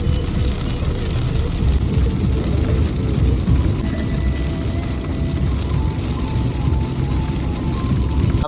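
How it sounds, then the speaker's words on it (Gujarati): Heavy rain drums on a car while it drives, a dense, steady broadband roar with low road rumble filling the whole stretch, no voices. "વરસાદ એકદમ ફૂલ ચાલુ થઈ ગયો છે."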